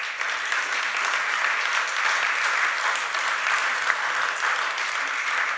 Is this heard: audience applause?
yes